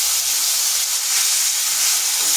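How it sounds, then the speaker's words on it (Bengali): Onion paste dropped into hot mustard oil for an egg curry, a steady loud hiss and sizzle filling the whole stretch, close and unbroken with no talking. "দিয়ে দিচ্ছি পেঁয়াজ পেস্ট।"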